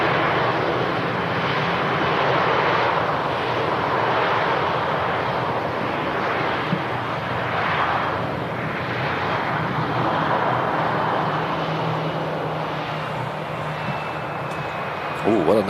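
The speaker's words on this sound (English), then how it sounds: "we've got a Sky Team Special A320 coming in from Paris" A SkyTeam special livery Airbus A320 arriving from Paris Charles de Gaulle at Manchester Airport gives a loud, continuous engine roar with a broad whooshing rush that holds steady throughout, while a voice talks over it.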